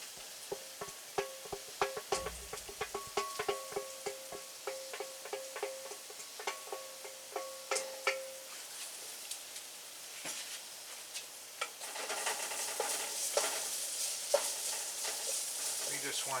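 Garlic fries with onion in a pan, giving a quiet, steady sizzle. Sparse clicks and taps from stirring run through it, and the sizzle grows a little brighter toward the end.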